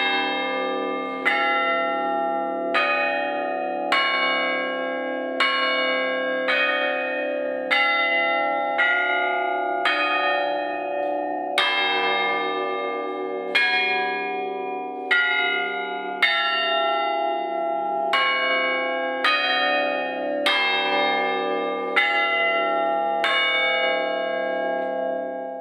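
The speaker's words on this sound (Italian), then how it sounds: "ogni visita di ogni visitatore che viene qui si conclude con un concerto di campane." A church bell concert rings out in Agnone, Italy: repeated clear strikes of several tuned bells in a steady, overlapping rhythm, bright and resonant, sustained throughout with no talking.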